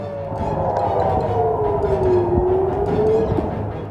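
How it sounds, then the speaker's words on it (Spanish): Air raid sirens wail over Israeli cities such as Tel Aviv and Jerusalem, one loud tone slowly dipping and swelling over a low rumble of background noise, with no voices heard. "sirenas antiaéreas suenan en Tel Aviv, Jerusalén y el norte de Israel"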